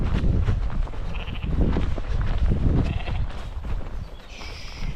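Sheep and lambs bleat repeatedly, close and loud, over steady wind and rough outdoor noise during lambing in bad weather.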